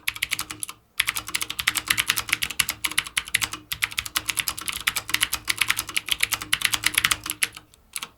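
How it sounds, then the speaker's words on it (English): Rapid, steady typing on a large, heavy computer keyboard, the dense clatter of keystrokes running almost continuously after a brief pause near the start, close and clear with no talking. "That's what I was just typing there."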